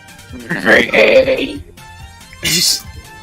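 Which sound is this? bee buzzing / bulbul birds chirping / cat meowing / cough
cough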